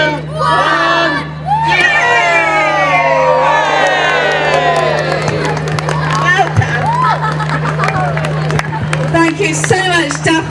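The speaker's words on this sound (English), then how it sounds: "A big cheer for Daphne." A lively crowd at a Clevedon community event cheers and shouts right after a countdown, with excited voices, whoops and children's cries filling the air over a steady low hum, loud and sustained throughout.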